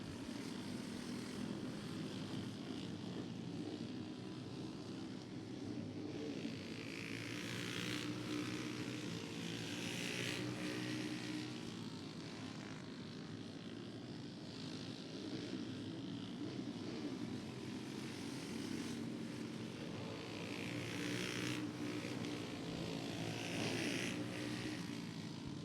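Big racing kart engines at a motorsports park drone and buzz continuously at a moderate distance, rising and falling as the karts run the track, with no talking.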